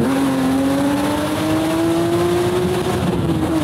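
A BMW accelerates hard, its revving engine climbing in a steady rising whine, loud and close throughout.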